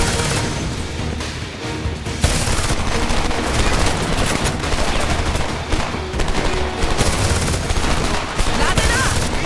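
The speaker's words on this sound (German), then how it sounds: "Gib mir Deckungsfeuer!" Dense covering gunfire in the shooter game Homefront, with rapid automatic bursts, booms and crashes sustained loudly throughout, and shouted voices mixed into the battle.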